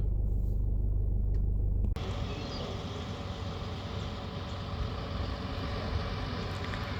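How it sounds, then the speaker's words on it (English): Defence Force trucks and other vehicles driving past roadworks in the Northern Territory, a steady low rumble of engines and tyres after a brief louder wind buffet at the start, with no talking. "there were some other vehicles actually driving around"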